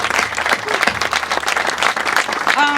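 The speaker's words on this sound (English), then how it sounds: "So give them a round of applause" A crowd at a dedication ceremony for the Johnny Cash Trail in Folsom breaks into loud, sustained applause and dense clapping, with a voice or two rising briefly near the end.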